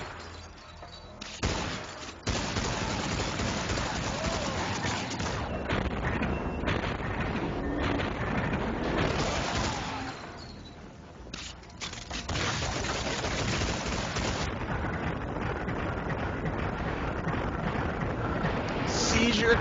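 Gunfire in Max Payne 2, a video game: rapid, dense volleys of shots and bursts, loud and nearly continuous with brief lulls, mixed with a voice speaking over the action.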